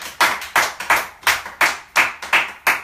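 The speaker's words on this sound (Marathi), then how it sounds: "त्यांच्यासाठी जोरदार टाळ्या वाजवा सगळ्यांनी" Audience clapping for a television channel's creative team, eight sharp evenly spaced claps in a steady rhythm, close and loud, with no talking.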